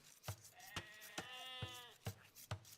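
Sheep bleating in a strategy video game, a single drawn-out bleat between evenly spaced soft thuds, clear and close with no talking.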